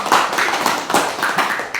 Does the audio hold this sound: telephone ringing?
no